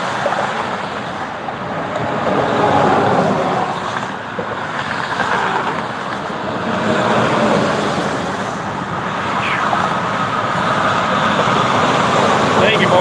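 Steady road traffic of cars and trucks streams past nearby, a continuous broadband rumble and swelling whoosh of passing vehicles, loud throughout with a person talking over it.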